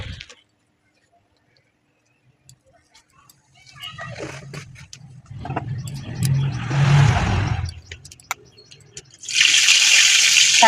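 Black cumin seeds dropped into hot oil burst into a sharp, loud sizzle near the end, after quieter stretches of speech and kitchen clatter.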